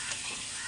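Meat curry sizzles and fries in a pot while it is stirred, a close, steady hiss lasting under a second.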